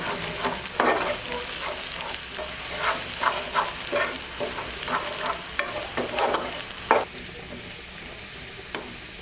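Onions browning in a pan with a cinnamon stick and two small cardamom pods: a continuous close sizzle broken by repeated scraping stirs of a spoon, fairly loud and with no talking.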